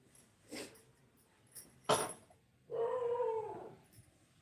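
A dog gives a few short yelps, then a longer drawn-out whining cry, heard fairly close against a quiet background.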